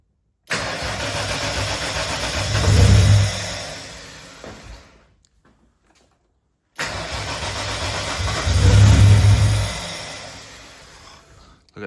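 An RB30 turbo engine swapped into a VN Commodore cranks and catches twice, each time roaring up with a rising rev before fading out, loud and close, the second start following a brief pause of silence.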